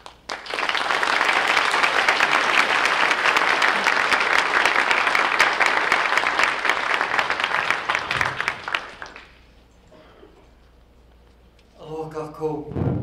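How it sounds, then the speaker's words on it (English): A brand launch event audience gives a warm, full round of applause, dense and loud for about nine seconds, then dying away, with a voice beginning to speak at the end. "Please give a warm round of applause to Sig Zane, Huha'u Zane, and Nalani Kanakao"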